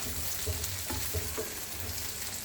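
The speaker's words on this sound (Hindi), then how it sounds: "इसको करते हैं हम फ्राई" Okra frying in a pan for bhindi chicken masala, a steady close sizzle with a few soft stirring scrapes and light knocks, no voices.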